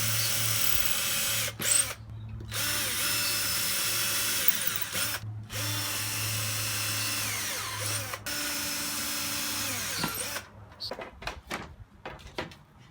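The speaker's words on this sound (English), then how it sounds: "drilling a hole through here and then through there and finding the center" A power drill whirs steadily in long bursts with brief pauses between, close and loud, ending with a few clanks and knocks.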